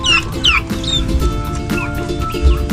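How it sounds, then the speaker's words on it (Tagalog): Turkey chicks kept in a backyard brooder peep in high, thin bursts, several overlapping calls close by, with a few chicken chicks mixed among them. "Sisiw po ng pabo ito"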